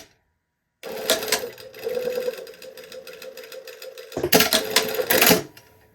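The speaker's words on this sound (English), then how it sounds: "I'm just going to sew, right below that point." A domestic sewing machine stitches through stacked fabric pieces in a close, rapid mechanical hum lasting several seconds, ending with a couple of louder clattering bursts.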